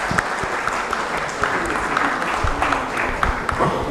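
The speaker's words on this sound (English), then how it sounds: "Can we have a huge round of applause for all our esteemed panelists?" Audience applause for the panelists at a financial outlook panel discussion, a steady dense patter of clapping lasting throughout, moderately loud and fairly close.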